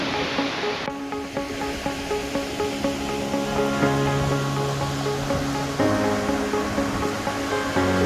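Nugget Falls near Mendenhall Glacier in Juneau, Alaska, pouring with a constant broad roar of falling water, heard with faint tonal background sounds in a busy outdoor setting.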